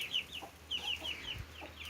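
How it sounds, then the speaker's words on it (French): A Pekin bantam hen clucks softly with her Brahma and Pekin chicks, giving repeated high peeping chirps close by, calm and alone with no talk. "Et là on retrouve ma petite Pékin bleue avec ses 4 poussins,"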